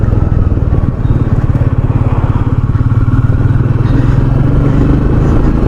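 A 2021 Royal Enfield Meteor 350 single-cylinder motorcycle thumps out a loud, close exhaust note, a steady rapid pulsing beat held throughout.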